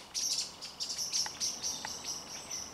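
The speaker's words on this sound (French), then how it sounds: "Ouais, il y a des oiseaux qui se battent." Blackbirds calling in a scuffle and chasing off a bird of prey outdoors: repeated bright chirps and short calls in quick bursts, fairly close, with a faint insect-like hiss underneath and no talking.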